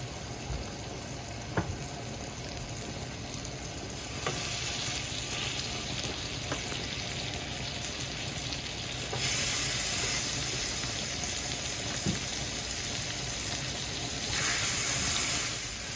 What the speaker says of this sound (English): so you want to hear that sizzle